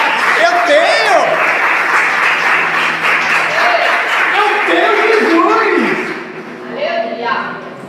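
A church congregation bursts into sustained applause, a dense wash of clapping with some voices and chuckles mixed in, loud and close, tapering off near the end.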